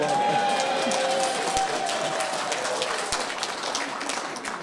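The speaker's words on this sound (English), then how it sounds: "I somehow knew that would get a cheer" A crowd at a political gathering in Norfolk cheers and applauds after a football win over Ipswich, a dense, sustained roar of clapping and voices that fades slightly toward the end.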